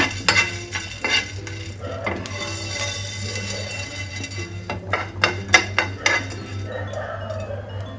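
Spices including peppercorns and coriander seeds are stirred and dry-roasted in a pan for puliyogare gojju, with a spoon repeatedly scraping and clinking against the metal over a low, steady hum.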